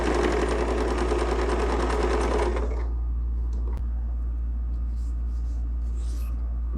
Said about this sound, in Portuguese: e costuro usando a faixa como uma base